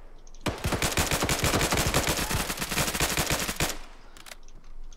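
Sustained automatic gunfire in the military shooter game Arma 3: a loud, rapid burst of shots lasting about three seconds, then a few scattered distant pops, with no voices.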